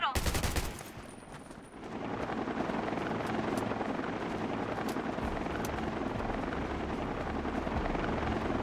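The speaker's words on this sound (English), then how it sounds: "Their choppers are on the way." Enemy helicopters arriving in the video game Undawn: a loud, steady rotor drone fills the scene after a burst of rapid gunfire at the start, with no voices.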